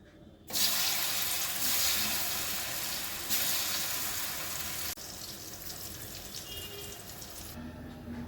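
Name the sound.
frying elephant foot yam dhoka cakes in oil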